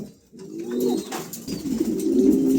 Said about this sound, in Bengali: প্রিয় দর্শক এখানে এক জোড়া কবুতর আছে দেখেন চমৎকার এক জোড়া